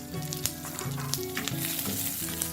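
Chopped onion sizzling in two tablespoons of hot coconut oil in a pan over moderate heat, a close, continuous crackling sizzle with light popping throughout, and quiet background music underneath.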